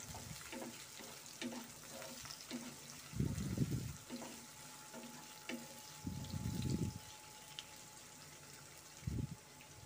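Red and green capsicum fry quietly in a pan, with a soft steady sizzle and three louder bursts of scraping as the pieces are stirred; a faint hum runs underneath.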